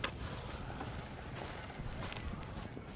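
Horse hooves clip-clopping at a steady gait in the Red Dead Redemption game, a continuous moderate rhythm under a dense background bed of ambient noise.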